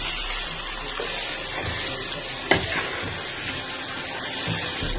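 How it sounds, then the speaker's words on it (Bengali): Spicy duck meat frying and being stirred in a pan, a steady close sizzle with a sharp clink of the utensil midway. "এটার মধ্যে ভাজবো মাংসটা দেখুন"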